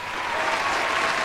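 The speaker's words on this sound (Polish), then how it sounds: "Otóż to, brawa szanowni państwo." Steady, dense applause from a crowd, loud and continuous across the whole moment, with no break, on a Hunt: Showdown game show.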